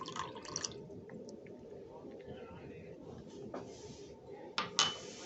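Distilled water is poured into a glass beaker holding milk of magnesia in a lab setting, giving a faint trickle with a few light glassy clinks and taps, quiet and close.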